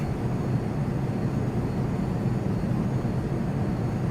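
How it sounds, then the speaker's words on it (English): An F-22 Raptor jet spools up to takeoff thrust in the Prepar3d flight simulator, giving a steady, loud, broadband engine roar that holds unchanged throughout. "So we'll go ahead and give her some thrust for takeoff."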